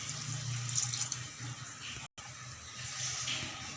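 Water pours into a pot of country chicken curry, a steady splashing rush that runs nearly throughout, briefly cut off near the middle before resuming, close and moderately loud.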